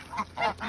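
Farm geese honk close by in three quick, loud, nasal calls in a row.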